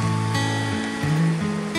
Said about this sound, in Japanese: 波が、メンツルの波が割れてます。